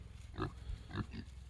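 Farm pigs on a homestead give a few low, soft grunts at about half-second intervals, faint over a quiet rumbling background.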